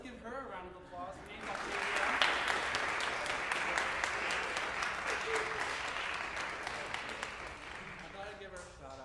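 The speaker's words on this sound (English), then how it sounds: "so let's give her a round of applause." Recital audience claps steadily through most of the stretch, a dense and moderately loud wash with a voice speaking briefly at the start and again near the end.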